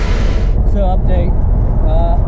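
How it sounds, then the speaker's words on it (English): Under talking voices, a Ford Foxbody Mustang drives on a highway, giving a steady, loud low rumble of engine and road noise heard from inside the car. "the Foxbody's running. We're driving on the highway right now."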